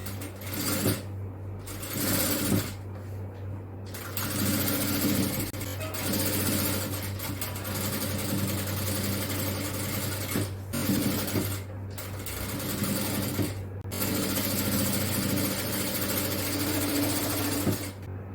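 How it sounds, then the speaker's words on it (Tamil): An overlock sewing machine stitches nighty fabric with a loud continuous motor whir and needle chatter, running in long stretches broken by a few short pauses. "அடுத்து இதுல ஓவர்லாக் போட்டுடலாம்."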